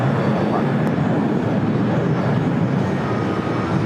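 A heavy jet airliner takes off from runway 25 Right at LAX, producing a loud, steady broadband engine roar that holds continuously throughout with no breaks.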